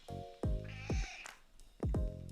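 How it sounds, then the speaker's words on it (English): A house cat meowing insistently, a close series of five or six loud, yowling meows in quick succession with no one speaking. "My cat's yelling at me."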